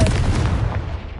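A Confringo blasting spell detonates in Hogwarts Legacy, a loud, booming blast that starts abruptly and rolls off into a rumbling decay over about a second.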